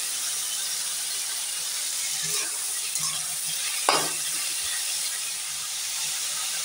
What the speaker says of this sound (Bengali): এবার ঝিঙাটা দিয়ে ভালোভাবে ভাজবো।